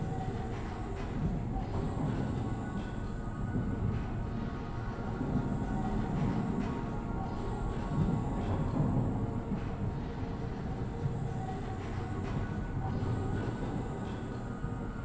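A moving tram in Abiotic Factor rumbles and rattles steadily along its track, a continuous mechanical drone with faint clanks, heard alone at moderate volume.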